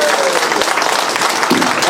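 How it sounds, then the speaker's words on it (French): Audience applause at a Mali independence anniversary celebration held in Gabon: dense, steady clapping from a crowd, continuous and fairly loud throughout, with a slight swell near the end. "Applaudissez très fort."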